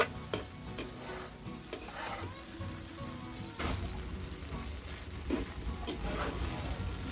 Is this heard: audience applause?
no